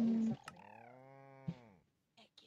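A cartoonish cow moo comes from a Pokémon-themed video game. It is one clear tonal call of about a second and a half, with brief game blips before and after it.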